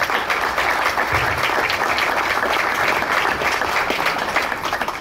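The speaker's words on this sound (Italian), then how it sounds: "Un applauso di ringraziamento a Pierino" Sustained, dense applause from an audience at an evening of poetry and kite-themed presentations in Sammichele di Bari, a steady loud wash of many hands clapping with no pauses for the full length.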